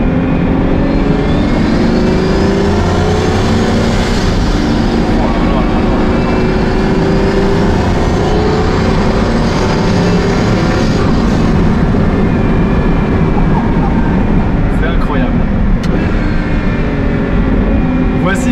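A Pagani Huayra Codalunga engine runs loud and steady with rising and falling pitch sweeps as the gearbox shifts rapidly, a constant dense drone close by, with a voice talking over it.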